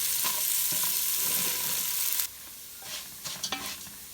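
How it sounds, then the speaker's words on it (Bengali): Vermicelli being stirred as it fries in a pan until brown, a loud steady sizzle that drops off halfway, followed by a few close scraping strokes of the spoon, with no talking. "সেমাইগুলো ফ্রাই কইরা এই যে এখন এই যে লাড়া দিয়া এগুলা ঝরঝরা করতে হবে"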